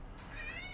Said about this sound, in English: Cat is meowing her precious little head off.